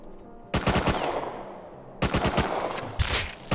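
Rapid bursts of gunfire in a video game, two loud close volleys of quick repeated shots with a pause between, fired while sniping at an enemy near a tower in a dome and train yard map.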